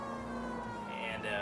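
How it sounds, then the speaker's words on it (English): A police car siren in LA Noire, a steady wailing tone sounding close and loud against engine and street noise. "You heard my siren."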